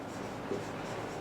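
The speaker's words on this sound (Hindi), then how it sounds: "तो हम इसमें लिखेंगे" Numbers being written by hand during a class 5 maths lesson: a faint, steady scratch of a pen or chalk, brief and close, with no voices.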